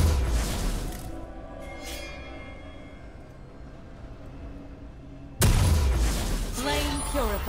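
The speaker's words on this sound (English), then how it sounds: "Red team's turret has been destroyed." A turret in the League of Legends video game explodes with a loud, sudden boom, a deep burst that cuts in sharply after a stretch of game sound and spoken announcements.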